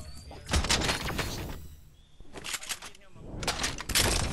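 Gunfire in the video game Fortnite comes in sharp, loud bursts of rapid shots in two or three clusters, with voices speaking over the shooting.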